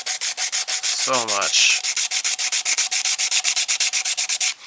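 Putty on a vinyl figure is sanded by hand with 100 grit sandpaper, a loud close rasping stroke repeated in a fast, even rhythm, with a short squeaky rubbing sound near the start.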